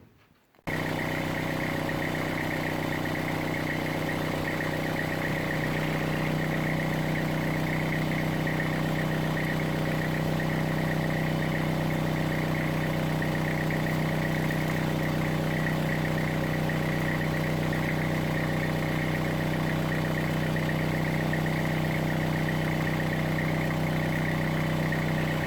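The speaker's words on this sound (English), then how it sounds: "I'll run the engine again and show you how much blow-by there is" A turbo diesel Toyota Hilux engine, freshly broken in with Bon Ami powder, idles steadily and loudly after starting, with a constant droning hum and whir and no talk.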